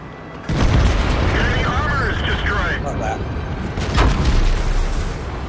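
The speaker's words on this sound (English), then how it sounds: "That was high explosive." High-explosive shell impacts on a tank in World of Tanks, heavy tier 9 Type 4 gameplay: a loud booming blast, then a second burst a few seconds later, over rumbling engine noise with a voice talking in between.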